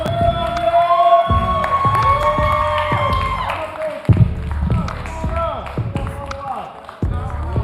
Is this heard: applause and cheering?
yes